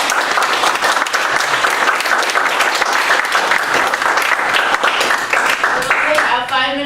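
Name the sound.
audience applause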